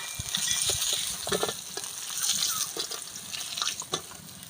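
Fish pieces frying in hot oil give off a close, crackling sizzle with uneven spits and pops throughout, with faint background clatter and no talking.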